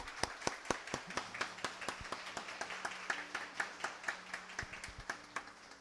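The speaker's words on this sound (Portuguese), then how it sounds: "Vamos dar uma salva de palmas" Sparse, irregular clapping from a small church congregation during a Holy Week service, sharp individual claps ringing out steadily with faint murmuring beneath.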